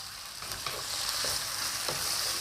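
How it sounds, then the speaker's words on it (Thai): Pork belly pieces fry in hot oil in a pan for a Thai green peppercorn chili paste, a loud continuous close sizzle with occasional stirring clinks and scrapes, no voices. "แล้วก็เทหมูสามชั้นลงไปค่ะ เราจะเจียวนะคะ หมูสามชั้นนะคะ ให้เหลืองหอมก่อนเลยนะคะ"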